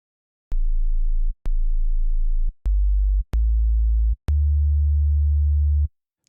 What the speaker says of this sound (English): We'll change oscillator 1 to a sine wave and add in some FM, and take the pitch down to -24.